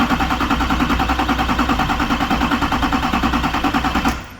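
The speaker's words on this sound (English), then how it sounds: "We're going to do voltage, unsynced, 8 cylinders because it's a V8 Duramax diesel, the Zuzu. And then we're going to hit start. Go ahead and crank it." A V8 Duramax diesel engine cranks loudly and close, its starter chugging in a fast, even rhythm for about four seconds before cutting off without the engine catching.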